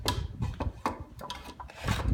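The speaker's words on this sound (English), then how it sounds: "I slid the 2x4 in there" A wooden 2x4 slides into the slot of a target stand, making close, scraping rubs of wood on wood in several short strokes.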